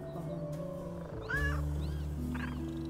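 A cat in the video game Little Kitty, Big City gives a few short, bright meows in quick succession over steady low game music, close and clear, with no talking.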